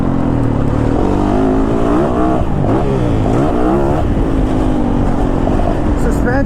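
A 2022 Yamaha YZ450FX dirt bike engine roars loud and close, its pitch rising and falling as the throttle opens and eases, with a voice talking over it.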